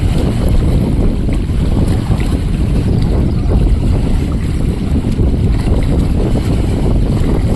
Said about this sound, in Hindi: गाइस बहुत हवा चल रही है